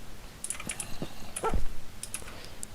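A dog whimpering in a video game, short faint yips and whines scattered over light keyboard clicking, with no talk.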